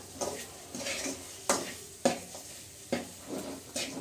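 A utensil stirs spice powder into pepper chicken in a pan, giving about six sharp scraping clinks at an uneven rhythm, close and fairly quiet with a soft sizzle beneath.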